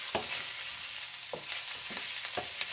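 Vegetables fry in hot oil toward golden brown, a steady sizzling hiss broken by a few sharp utensil scrapes and clacks against the pan.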